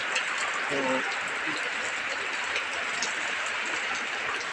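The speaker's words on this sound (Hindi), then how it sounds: "बहुत तेज़ी से बरसात हो रहा है, आप देख सकते हैं।" Heavy rain pours steadily throughout, a dense continuous hiss close by over farmland, with a voice speaking briefly near the start.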